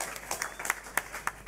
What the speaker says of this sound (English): Can we get a round of applause for these guys, please?